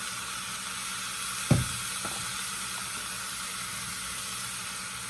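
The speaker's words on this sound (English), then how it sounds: "Let them finish searing." Pork loin sears in a hot pan with a steady, close sizzle and hiss, broken by one brief clunk as the meat or pan is moved; no one speaks.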